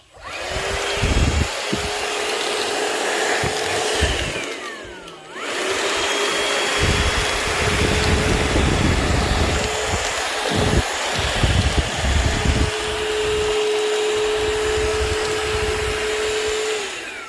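A Shark VacMop sucking up a spill, its motor whining loudly and continuously, dipping briefly when the suction seems to catch or pause, then resuming with scraping and clattering against the floor.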